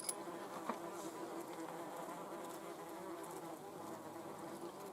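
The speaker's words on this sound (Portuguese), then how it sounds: "por que tantas vespas parecem estar vagando na mesma armadilha nesse clipe horrível?" Several wasps hover around a carnivorous plant's trap, making a steady, close, continuous buzz with no voices.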